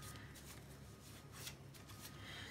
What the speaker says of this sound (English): let me shuffle the cards a couple more times